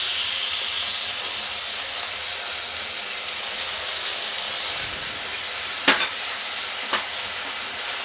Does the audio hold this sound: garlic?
yes